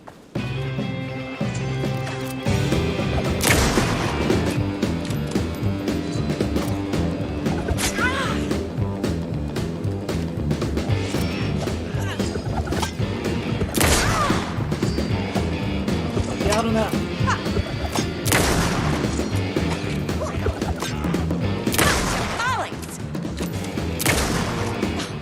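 Gunfire in Alan Wake 2, loud shots cracking out one at a time at irregular intervals over about twenty-five seconds, with a person talking throughout.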